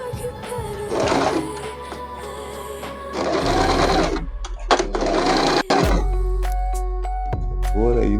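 Sewing machine stitching a wig, running in loud bursts with brief pauses between them, close to the microphone, while a person talks over parts of it.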